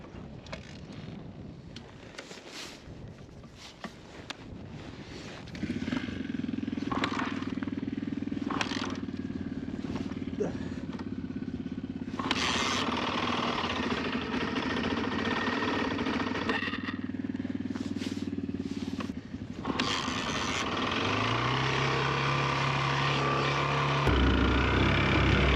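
A cold Suzuki DRZ 400 motorcycle engine catches and settles into a steady, low idle, loud and close, holding an even drone with wind noise and a rising rev near the end.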